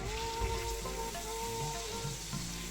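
Ground garam masala sizzles steadily in a hot pan with oil while being stirred, a continuous close frying hiss with light scraping, for a Bengali-style katla fish curry made without ginger, garlic or onion.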